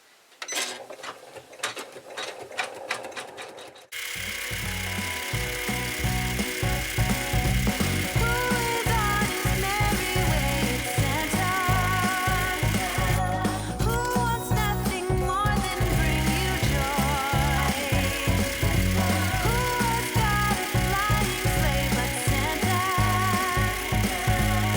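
A sewing machine stitches pink cheek pieces onto a vinyl feltie, opening with a few seconds of clicking and handling before the motor kicks in to run steadily and loud, with a rapid mechanical needle rhythm that continues to the end.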